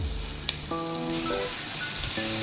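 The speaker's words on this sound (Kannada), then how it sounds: "ಇದೆಲ್ಲ ನೀಟಾಗಿ ಫ್ರೈ ಆಗಬೇಕು." Ten green chillies frying steadily in a pan for a potato chicken curry, a soft continuous sizzle at moderate distance with a faint clink and some background music tones.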